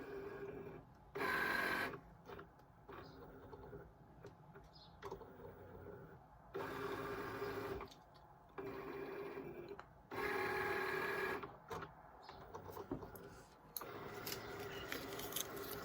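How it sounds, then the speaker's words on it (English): A printer-cutter machine reading registration marks on sticker paper, whirring and clicking in repeated bursts of carriage motion with quiet gaps between, fairly faint. "the printer is going to start looking at the marks"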